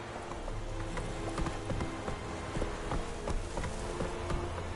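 Horse hooves clip-clop at a steady gallop rhythm in The Witcher 3 video game, continuous and fairly close over a low ambient hum, with no talking.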